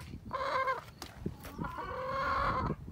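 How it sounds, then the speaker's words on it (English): An Americana hen, also called an Easter egger, gives two drawn-out, nasal clucking calls close by, separated by a brief pause with a few soft scuffles between them. "just a regular Americana hen. So also known as an Easter egger."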